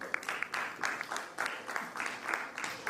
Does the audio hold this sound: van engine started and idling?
no